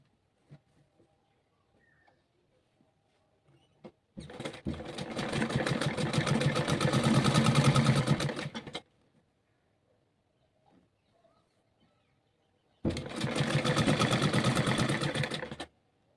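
A sewing machine stitches a kurti collar in two bursts of rapid, rhythmic needle chatter, a longer run of about four seconds and a shorter one later, separated by near silence with faint handling noises.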